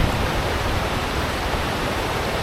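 A river in a remote rural area of the Philippines rushes with a loud, steady, broadband roar of flowing water that holds constant from start to finish, with no voices.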